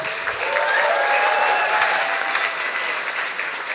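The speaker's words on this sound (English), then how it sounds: "Big applause for Tamanna" Loud, sustained clapping fills the hall as a Science Slam audience welcomes the next presenter onto the stage, a thick wash of many hands with no speech over it.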